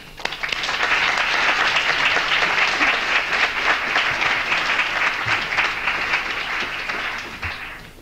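An audience at an architecture lecture breaks into sustained applause welcoming lecturers Eleni Gigantes and Elia Zhenghelis, dense and steady clapping from a full room that holds at the same level for several seconds before beginning to thin.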